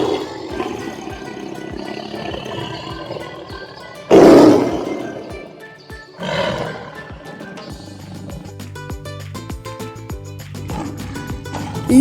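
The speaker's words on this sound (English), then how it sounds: "Lion, the king of the jungle. Their roar can be heard up to 5 miles away." A lion roars in the wild, deep powerful bursts that swell loudly around the middle, with grunting calls and a musical background running throughout.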